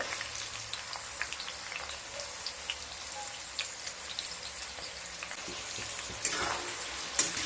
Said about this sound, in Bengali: পেঁয়াজগুলোকে ভালোভাবে ভেজে নিয়ে তারপর ফিরে আসছি